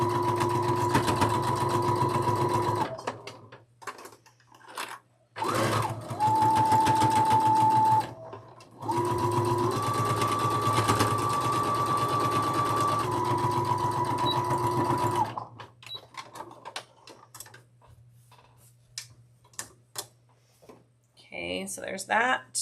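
A sewing machine embroiders a quilt block, its loud motor humming in long steady runs broken by short pauses, then stopping as quiet handling noises follow.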